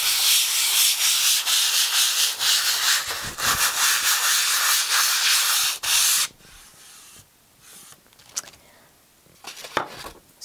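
Fine-grit sanding of a gesso-primed art board in circular motion, a loud, close, continuous scratchy rub for about six seconds, then quieter intermittent strokes and light taps.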